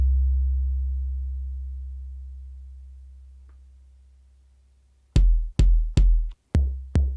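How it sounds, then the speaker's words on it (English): Boss DR-202 drum machine playing an 808 kick: a long, deep booming tail slowly decays, then five punchy kick hits follow in a steady rhythm, loud and close with nothing else over them. "Let's say 808 kick."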